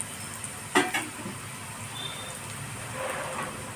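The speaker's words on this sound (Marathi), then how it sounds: "चांगलं परतून घ्यायचं कांदा परतत आला आहे" Onions salted with turmeric sauté in a pan with a soft, continuous hiss, one sharp clatter of a spatula early on and a slight swell of sizzling toward the end.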